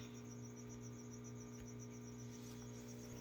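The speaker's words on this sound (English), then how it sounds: "I threw three crickets in there for him." Feeder crickets chirp in a spider's enclosure in a steady, faint, continuous trill with a constant background hum beneath and no voices.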